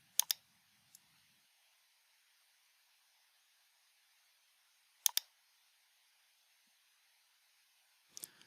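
Sharp mouse clicks from someone working in RFEM 6 structural engineering software: a quick double click, a single click, another double click, then a final pair, isolated against near silence.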